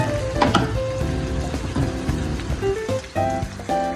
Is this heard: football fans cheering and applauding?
no